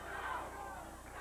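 A crowd at a 1989 Stampede Wrestling match chants, a distant, muffled roar with a faint rhythmic swell, under a commentator's voice.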